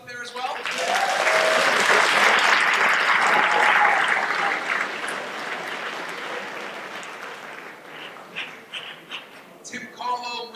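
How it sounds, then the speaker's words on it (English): Sustained audience applause at a school awards evening, steady and full at first, then thinning out into scattered claps near the end. "I'd like a quick round of applause for Tim Carlo"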